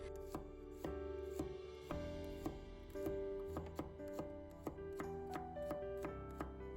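A knife slices garlic cloves on a cutting board in a quiet series of crisp, uneven taps, each cut landing close and distinct with no talk.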